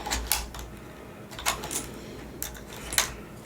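Clicky mechanical keys on a Razer keyboard, a few scattered crisp clacks and short rattling bursts of presses close up, with no talking.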